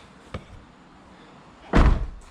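Door of a Toyota GR86 with added carbon fiber parts closing, one solid slam near the end preceded by a faint click, heard up close in a quiet space.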